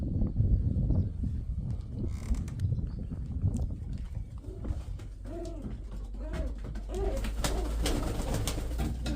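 Mykolaiv pigeons coo softly nearby, a few throaty rolling calls repeating over a quiet background of shuffling and faint noise.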